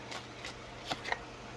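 Tarot cards being shuffled, a few soft riffling bursts spread across a quiet, faint stretch with no talking.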